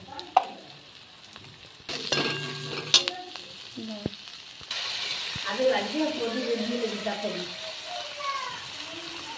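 Onion and garlic fry in a pan with turmeric and salt, a steady sizzle that swells after the first few seconds, broken early by a few sharp stirring clinks and knocks of a utensil.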